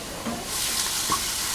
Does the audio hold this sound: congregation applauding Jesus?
no